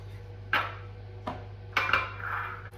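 A spoon stirs sugar and a squeeze of lemon in a bowl, made for gluten-free apricot and almond tarts: a few separate scraping clinks against the bowl, close and moderately loud, with no talking.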